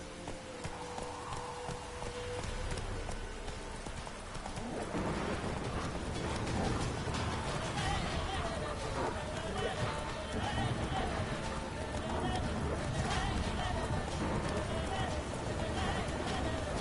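Roach the horse galloping in The Witcher 3, rapid hoofbeats setting in partway through and continuing steadily under a game soundscape, with voices speaking over it.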